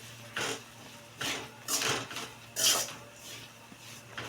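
A spoon clinks and scrapes against a metal pot while bitter gourd curry is stirred, four or five soft clattering strokes spaced about half a second to a second apart, close but quiet.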